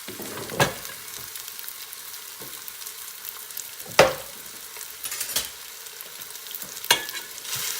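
Ground turkey sausage frying in a pan with minced garlic, a steady soft sizzle running throughout with a few sharp clanks of a utensil stirring and scraping the pan at intervals.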